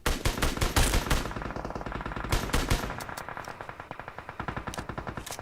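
SKS rifle gunfire in a video game rings out as rapid, sharp, loud repeated shots in quick bursts, with a denser rhythmic string of fire toward the end.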